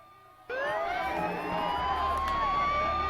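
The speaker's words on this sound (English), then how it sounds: "you can hear a lot of sirens now" Police sirens wail in the video game Shadow Man, several overlapping rising and falling tones that start abruptly and continue loudly over a low rumbling background.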